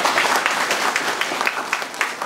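An audience at a rescue training event for fishermen on Bumbile Island, Kagera, applauds in thanks to the president: dense, loud clapping from many hands, sustained throughout.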